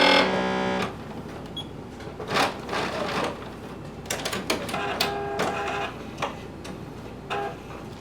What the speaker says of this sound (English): You're going to sew and then backstitch just a tad.